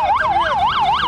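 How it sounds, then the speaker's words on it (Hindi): An ambulance siren wails close and loud, its pitch sweeping up and down in a fast repeating cycle, with no voices. "उन्हें एम्बुलेंस से वहां से ले जाया गया।"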